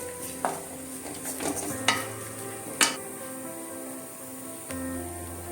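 Spices for chicken curry dry-roast in a pan with a faint sizzle, while a spoon scrapes and taps against the metal a few times, close by, in a quiet kitchen without speech.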